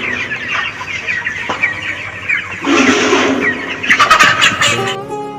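Large chickens of about 2 kg each cluck steadily in a close, busy group, with a few louder squawking bursts rising near the end and no talking.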